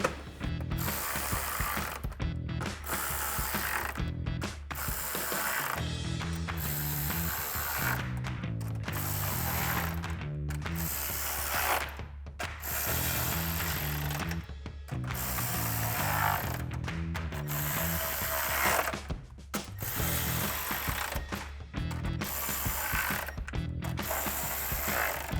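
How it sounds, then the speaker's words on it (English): Ratchet with a 10mm socket tightening headlight bolts on a 2019-2024 RAM 1500, loud close rapid clicking in repeated strokes with brief pauses throughout. "now I'll take a 10mm socket and tighten all of those bolts down"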